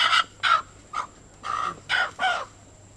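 A live chicken being brought in makes six short, loud squawking calls in an irregular rhythm, close to the microphone, with no talking.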